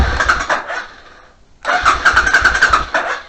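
A Suzuki Intruder motorcycle engine cranks and catches after the ignition is switched on, with a loud rough churn, a brief lull, then a steady run of close, pulsing firing beats.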